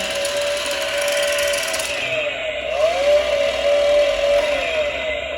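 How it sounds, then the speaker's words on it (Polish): A Husqvarna toy brush cutter gives off a continuous electronic motor whine that rises and dips in pitch, steady and fairly loud, with no talking. "wykaszarka, tak jak wszystkie nasze zabawki, wydaje dźwięki"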